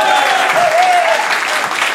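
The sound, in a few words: audience applause at a comedy show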